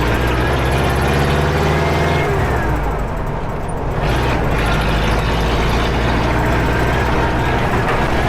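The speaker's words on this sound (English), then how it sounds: "The engine runs much more smoothly now. It pulls away easily and confidently." An air-cooled V4 engine running on LPG, heard in a vehicle as it pulls away smoothly: a continuous loud engine drone with a low rumble, a brief dip partway through and steady running before and after.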